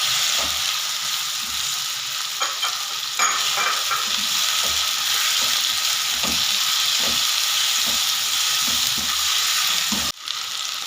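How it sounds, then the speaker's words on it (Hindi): Potatoes and onions fry with ginger-garlic paste for an aloo baingan curry, giving a steady loud sizzle with repeated scraping stirs throughout, close up and with no talking. "अब हम इसमें अदरक लहसुन का पेस्ट डालेंगे और प्याज और आलू को अच्छे से फ्राई कर लेंगे"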